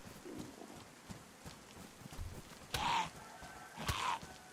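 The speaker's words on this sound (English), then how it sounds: "I heard a chicken." Faint clucking chicken in the survival game DayZ, two brief squawking calls in the distance over quiet ambient game noise, with soft footsteps between them.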